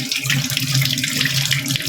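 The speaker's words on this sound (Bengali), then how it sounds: "এই যে হাতটা ধুয়ে নেবো আমরা এই বেসিন থেকে।" Water runs steadily from a basin tap into a sink while hands are washed, a close, even splashing stream with no voices.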